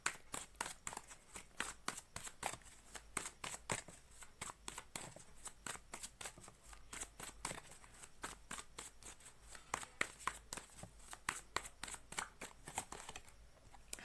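Tarot cards are shuffled over and over in quick, crisp riffles, a steady run of sharp flicks that stays close and alone for the whole stretch.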